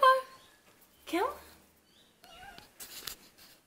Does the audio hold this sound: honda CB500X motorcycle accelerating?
no